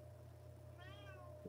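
A house cat gives a single short meow partway through, faint against a steady low background hum, with no one speaking.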